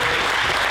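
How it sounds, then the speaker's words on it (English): An audience at a karate and kickboxing masterclass bursts into applause, a brief, loud, dense burst of clapping. "give it a huge round of applause for Sensei"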